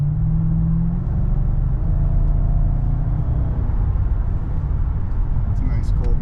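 Deep, steady engine rumble of a Lexus LS460L with a Magnaflow axle-back exhaust idling nearby on a cold morning, a low throaty drone that holds constant throughout.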